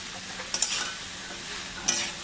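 Bottle gourd being stirred in a pan with salt just added, giving a few short scraping clinks near 0.5 and 1.9 seconds over a soft, steady sizzle, close and alone.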